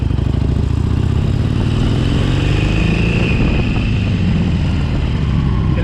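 2019 Harley-Davidson 883 Sportster being ridden, a steady low engine rumble with wind rush, loud and continuous throughout.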